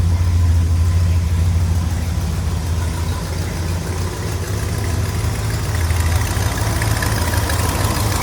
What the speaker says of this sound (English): Sounds like she's got just a small exhaust leak.